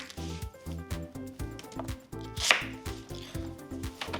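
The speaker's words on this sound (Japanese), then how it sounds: "で玉ねぎは切って" Knife chopping onion for a chicken spice curry, a steady run of sharp, close cuts on a board with a louder knock midway, set against a background of sustained tonal music.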